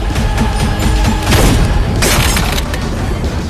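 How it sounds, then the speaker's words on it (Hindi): Gunshots ring out in a dense, loud action scene from the film Pushpa 2, with two sharp blasts standing out over a constant roar of rumbling noise. "वो गोलियों की आवाज है क्या?"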